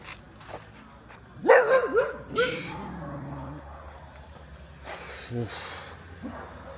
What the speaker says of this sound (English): There's a few stray dogs.